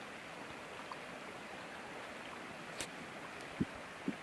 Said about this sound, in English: the water is going around behind it, as well as across this new dam